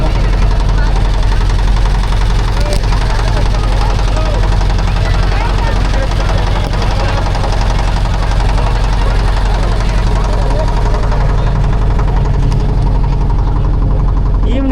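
A boat engine knocks and drones steadily on an evening ride on the Ganges at Varanasi, a low, continuous rumble with vibration filling the whole stretch while voices are heard over it.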